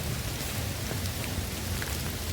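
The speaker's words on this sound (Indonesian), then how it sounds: "kalian bisa menikmati nuansa hujan" Steady rain pours down at a forest campsite near Cidahu, a dense continuous hiss of drops striking surfaces all around, loud and close with no voices.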